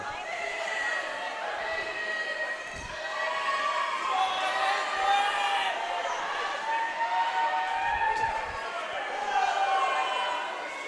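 A swim team yells and cheers poolside at an indoor high school swimming meet on senior night, with a sustained, echoing wash of overlapping shouts and whoops from many voices that swells and holds throughout.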